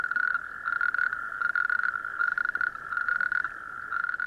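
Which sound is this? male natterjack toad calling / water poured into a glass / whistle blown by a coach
male natterjack toad calling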